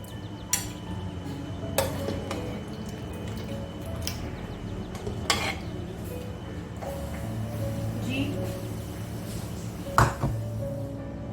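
Mutton and potato curry is ladled into a serving dish, with scattered spoon clinks against metal and ceramic and soft wet squelches, close and fairly quiet with no talk.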